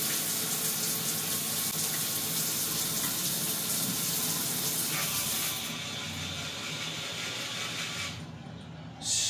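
A steady hiss of water pours continuously from an overhead shower fed by a mini automatic water booster pump, with a brief change in the spray near the end.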